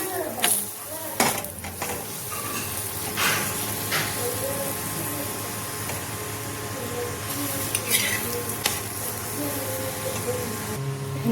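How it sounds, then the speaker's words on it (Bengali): A paneer paratha cooks in oil on a hot tawa, giving a steady low sizzle. Occasional clinks of a utensil sound through it, with faint background hum and no speech. "তো এখানে তেল দিয়ে সেঁকে নেব।"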